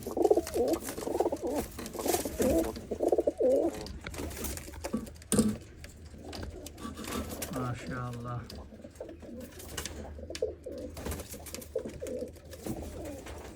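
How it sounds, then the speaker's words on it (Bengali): Pigeons in a breeder's loft give low, repeated coos close by, while someone talks over them and some scattered rustling and fluttering is heard. "খুবই সুন্দর কবুতর এটা"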